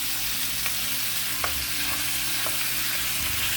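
Venison browning in peanut oil in a pan, a steady close sizzle with a few soft clicks of a utensil stirring, no voices.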